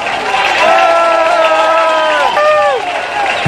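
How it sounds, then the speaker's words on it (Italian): A crowd at a Derozer live rock show at La Gabbia claps and cheers loudly, with drawn-out shouting and whooping voices standing out above the general roar. "qui va il nostro applauso grandissimo"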